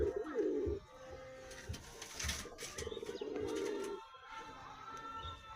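Fancy domestic pigeons coo repeatedly in a low, throaty rhythm at close range while being fed and let out, with occasional wing flaps and no speech.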